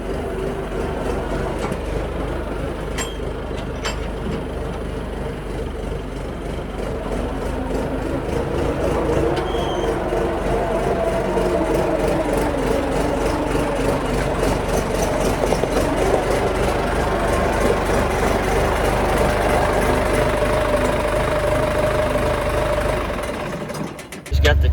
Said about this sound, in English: I'm just gonna back this tractor in here just so it's not outside.